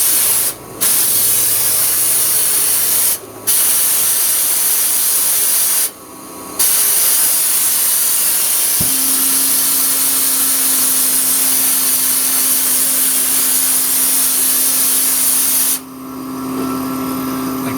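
Sandblaster spraying abrasive with a compressor: a loud, steady broadband hiss that runs almost continuously, broken by a few brief pauses and a drop near the end, with a low hum underneath.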